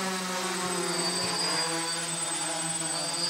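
A DJI F450 Flamewheel quadcopter hovers and sets down during a return-to-home failsafe test, its propellers giving a steady, loud, close buzzing whine with layered tones.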